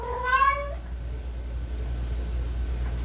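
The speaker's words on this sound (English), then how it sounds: "Sorry, my cat." A house cat lets out a single loud, drawn-out meow close by, followed by a quiet room hum.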